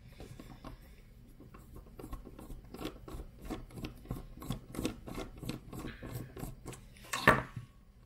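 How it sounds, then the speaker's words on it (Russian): A screwdriver works the screws of an electrical plug while the wire is connected, producing a steady series of close, dry clicks and scrapes about twice a second, ending in a brief louder metallic scrape. "понадобится отвертка, чтобы ее раскрутить."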